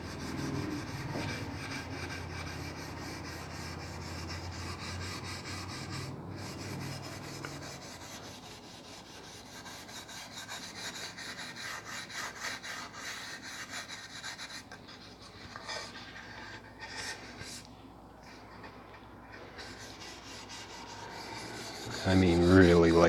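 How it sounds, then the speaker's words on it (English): Steady scratchy rubbing of light hand sanding on a wood guitar body between coats of wipe-on poly, continuous and close, with a brief louder tonal sound at the very end. "But I'm very lightly sanding this."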